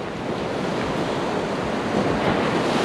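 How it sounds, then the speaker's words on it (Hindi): Ocean waves crash and spray steadily at Harihareshwar beach on the Konkan coast of Maharashtra, a loud continuous roar of surf with wind buffeting the microphone and no voices. "पानी ऐसे उड़ रहा है ना ऊपर"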